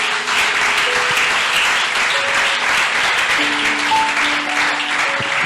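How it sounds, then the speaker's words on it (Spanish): Loud, continuous applause from a church congregation during a sermon, with steady clapping and faint sustained tones, likely from instruments, sounding beneath it throughout. "Dale ese aplauso a Jesús."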